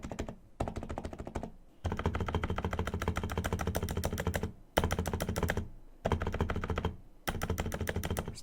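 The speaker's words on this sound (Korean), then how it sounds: "스테빌이 들어간 키들을 쳐볼까요?" Hansung GK888B electrostatic capacitive keyboard with Cherry-style stabilizers, its stabilized keys typed in dense, steady bursts of close, loud clacks broken by a few brief pauses, with no voice present.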